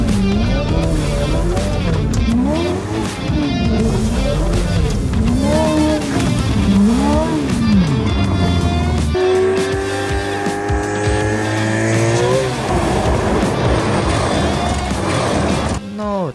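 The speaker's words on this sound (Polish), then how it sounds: "Jest to film, jak sobie driftował po polu." Ferrari F8 Tributo drifting on a field, its engine revving in rising and falling sweeps, then a long sustained high-revving run with tire noise. Someone talks over it throughout.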